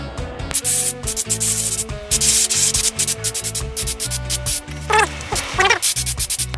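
Auarita K350 LVMP spray gun flushing out leftover metallic paint, sharp hissing bursts in quick irregular pulses, loud and close with a mechanical hum underneath.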